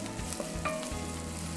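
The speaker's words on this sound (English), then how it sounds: "you hear it sizzling off." Chopped onion sizzles steadily in a hot pan while mushroom risotto is being made, a continuous close frying hiss with a brief stir partway through and no talking.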